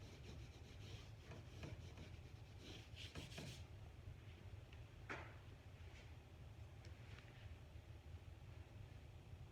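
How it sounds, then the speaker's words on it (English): An eraser scrubs on paper while a big box is being drawn, making quiet, rapid rubbing strokes in short bursts over a steady low background hiss, with no talking. "getting an eraser"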